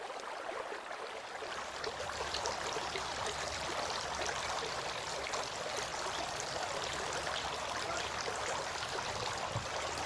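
Water runs steadily and close by as feet are washed for ablution, a continuous broad splashing stream with no break or talk.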